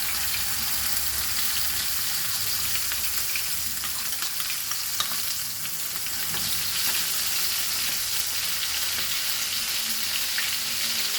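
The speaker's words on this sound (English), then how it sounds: "And now I will fry the" Goan recheado masala frying in hot oil, a loud, steady, close sizzle that crackles without a break for about eleven seconds, with no voices.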